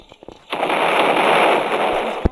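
A firecracker bomb goes off close by, a few sharp pops followed by a sustained loud crackling burst lasting about two seconds, then a final crack, with no one talking.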